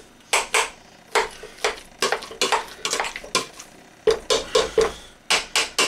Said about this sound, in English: I mash in the butter with a bit of milk, like you see here.